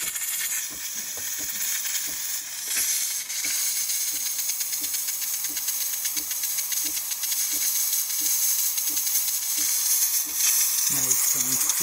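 Steam wand on a Delonghi Magnifica coffee machine hisses loudly and continuously, a strong bright rush broken by faint rhythmic ticking, with a short clatter near the end.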